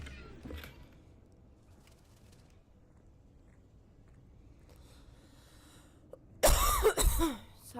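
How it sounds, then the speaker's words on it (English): A person coughs and clears their throat, with one brief cough near the start and a loud, harsh burst of coughing toward the end, close up over quiet room tone. "Sorry if I'm coughing a lot."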